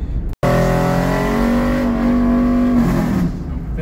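A cammed GMC Yukon engine revs up and holds near 5800 rpm, a loud, steady, droning note close by that drops away at the end.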